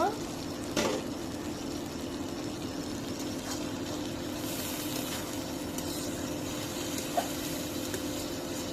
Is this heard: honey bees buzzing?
no